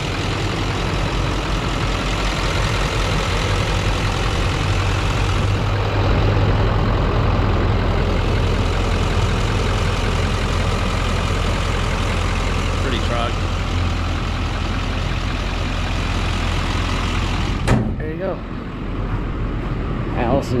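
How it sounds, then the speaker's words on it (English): A 2011 Chevy Silverado LTZ 4x4 with the Duramax diesel engine idles nearby: a steady, low, droning rumble that holds constant throughout, with a brief clunk near the end. "There's your Duramax motor."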